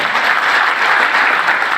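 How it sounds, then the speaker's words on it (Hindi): An audience claps briskly for blood donors, a dense, loud, continuous patter of many hands filling the brief moment. "इन रक्तवीरों का, इन देवदूतों का तालियां बजाकर उत्साहवर्धन करें"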